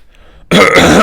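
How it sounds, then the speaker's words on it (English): A man giving a lecture produces one short, loud, gravelly throat clearing after a moment of near silence. "He does not continuously clear his throat nor move around plentifully."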